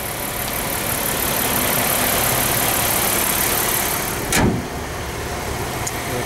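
A 2014 Ford Territory seven-seater rear-wheel-drive wagon idles with a steady, smooth engine hum, broken by one brief louder whoosh partway through before the even idle resumes.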